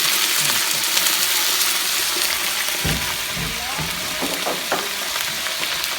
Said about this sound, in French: ce petit bruit là, ce son là, comment il grésille là